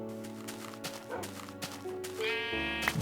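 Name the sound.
sheep bleating in the video game Minecraft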